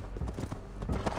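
Galloping horse hooves in Assassin's Creed Valhalla on PS5, a quick rhythmic clip-clop of several beats under a steady game ambience.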